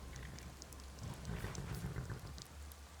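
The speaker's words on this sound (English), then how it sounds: "Why is it always raining?" Steady rain falls in the video game Skyrim, a soft, even patter of drops with no voices over it.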